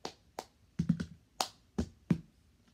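Sharp hand claps and taps from a cup-stacking routine, about seven crisp hits spaced irregularly across a few seconds, close and fairly loud with no talking.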